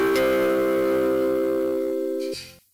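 An automatic school and factory bell system sounds a steady sustained electronic chime tone for the start of the first lesson, loud and close, then cuts off abruptly near the end.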